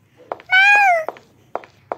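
A cat gives one clear, drawn-out meow, close and loud, with short clicks and taps around it before and after.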